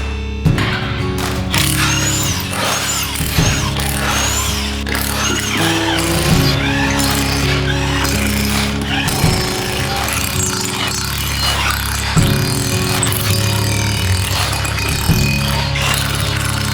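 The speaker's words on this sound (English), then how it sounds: "let's get the car on the lift, get it in the air and get the wheels all swapped over" A Mini Countryman overland camper is raised on a workshop lift for a wheel swap, bringing a loud steady mechanical hum with clanks, ratcheting and tool clatter throughout and no clear talking.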